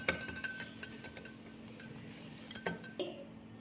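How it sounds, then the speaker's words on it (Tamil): Salt being stirred into water in a glass, a quick series of bright spoon clinks against the glass, close and fairly quiet, tapering off near the end. "சால்ட்டை போட்டு கொஞ்சம் மிக்ஸ் பண்ணிப்போம்"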